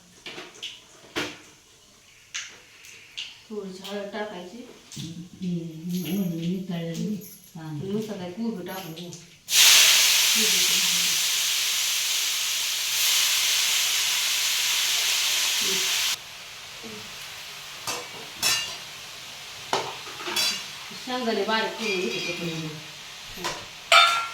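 Cumin and mustard seeds hit hot oil in a home kitchen pan, a sudden loud hissing sizzle that bursts in mid-clip, holds for several seconds, then drops to a softer crackle, with someone talking before and after.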